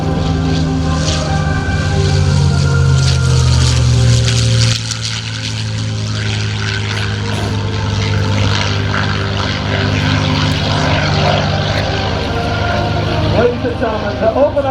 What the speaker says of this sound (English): You'll hear the popping sound too as the aircraft passes by.